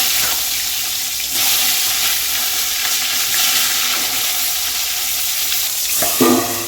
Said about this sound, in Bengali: কলা ভাজা রেডি তেলের মধ্যেও পটল